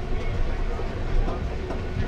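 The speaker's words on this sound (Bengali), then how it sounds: "তার মাঝখান দিয়ে বা তার পাশ দিয়ে ট্রেন যাচ্ছে আমাদের সরাইঘাট এক্সপ্রেস" Saraighat Express train running through Assam, a steady, loud rumble of rolling wheels and rattling carriages heard from on board, continuous for the whole stretch with faint clatter on top.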